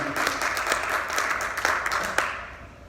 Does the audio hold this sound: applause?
yes